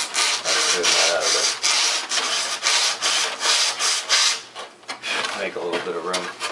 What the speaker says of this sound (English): So I'm just going to take my sanding block and smoothen that out